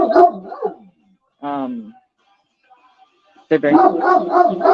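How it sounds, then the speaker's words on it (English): A dog barks indoors in three loud, close bursts: a quick run of barks, then a short high whining bark, a pause, and another sustained volley. "so sorry about my dog."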